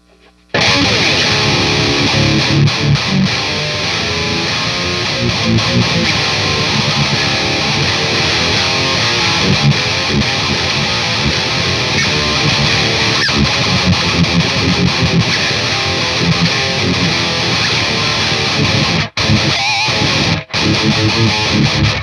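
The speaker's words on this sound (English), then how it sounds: "I added more mid and activated both the Boss Super Overdrive along with the Pepper's Dirty Tree" An electric guitar plays through a Boss Super Overdrive and a Pepper's Dirty Tree pedal with the mids boosted, giving a loud, continuous, thickly distorted sound of chords and riffs that breaks off briefly near the end, with no talk.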